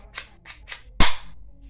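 A spring-powered BB gun fires one sharp, loud snap near the mic, preceded by three quick mechanical rasps as it is handled and cocked.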